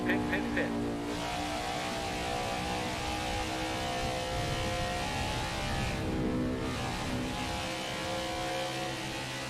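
Race car engine in the NASCAR 21: Ignition video game at Darlington, droning steadily and loudly with throttle working up and down, under continuous commentary talk.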